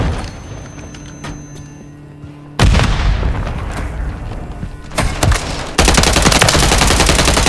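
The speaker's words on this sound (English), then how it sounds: "Stun grenade!" A stun grenade and gunfire in Call of Duty: Modern Warfare III: bursts of rapid shots and sharp booms hit with sudden loud onsets, close and harsh, layered over a continuous noisy battle backdrop.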